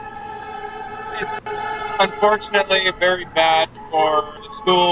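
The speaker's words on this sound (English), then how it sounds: "Okay, so I also apologize for the sirens" Emergency sirens wail in the background while a person talks steadily over them.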